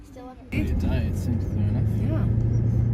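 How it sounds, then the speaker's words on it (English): A car climbs the steep road up to Castle Hill Lookout in Townsville, its engine a steady low drone that swells and strains under load, with a voice talking over it. "We're driving up to Castle Hill Lookout here in Townsville"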